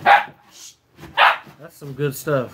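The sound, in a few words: dog barking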